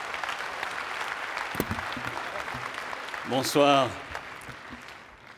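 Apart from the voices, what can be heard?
audience applause for the speaker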